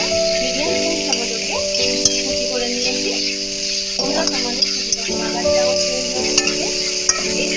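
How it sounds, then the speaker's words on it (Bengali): Spices and chopped tomato sauté in a pan for a potol and Gobindobhog rice dish, giving a steady close sizzle with occasional stirring scrapes and clinks throughout. "মশলাগুলো সুন্দর করে কষানো হচ্ছে এবার আমি টমেটো কুচি দিয়ে দেবো"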